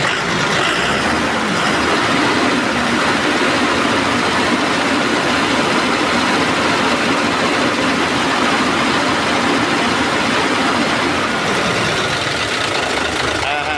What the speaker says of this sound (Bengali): তাতে বোঝা যায় যে ইঞ্জিন হাওয়া তুলতেছে